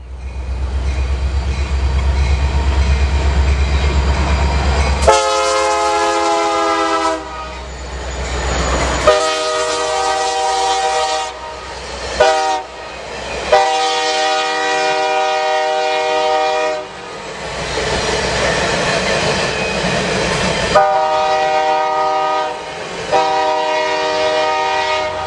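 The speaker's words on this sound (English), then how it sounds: "the cleanest SD70M I've ever seen basically was pulling every single OCS car UP had with a really nice horn" A Union Pacific SD70M locomotive hauling a long string of OCS cars sounds a loud multi-chime horn in repeated long and short blasts over the rumble and clatter of the passing train.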